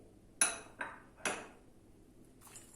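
Spoon strokes stirring a celery salad with mayonnaise and walnuts in a bowl, giving three sharp clinks roughly half a second apart and then a softer scrape, close and fairly quiet with no talk.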